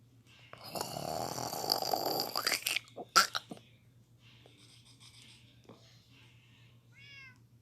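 A pet cat meows and complains for food indoors, with short, faint cries and a rising call near the end, following a louder rustling stretch, while a person's voice is heard nearby.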